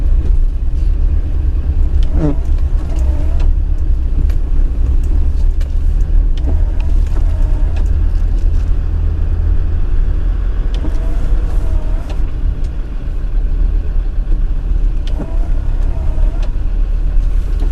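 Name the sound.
off-road vehicle creeping downhill on green lane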